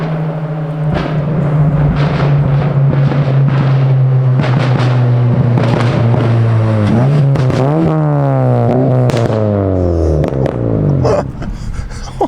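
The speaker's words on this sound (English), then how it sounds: "For an NA car, that's a nasty burble tune." A tuned naturally aspirated car engine idling with a deep rumble, then revving and falling repeatedly while the exhaust crackles and pops in sharp bursts during deceleration.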